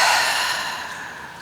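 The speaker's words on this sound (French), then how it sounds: "Puis ouvre ta bouche et expire." A single deep exhale through the open mouth during a dynamic yoga session, a breathy airy rush that starts strong and slowly fades over about a second and a half, close and alone.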